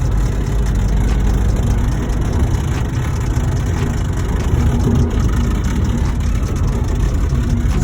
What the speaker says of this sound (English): this is another noise I noticed while I'm driving